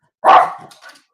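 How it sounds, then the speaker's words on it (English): A single sharp dog bark rings out close by, followed by a faint short yip, then silence. "My dog."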